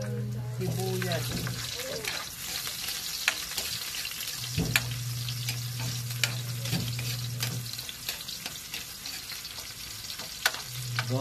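Onion frying in a pan for chicken tinola, a steady close sizzle with occasional stirring scrapes, broken by low droning hums that start and stop.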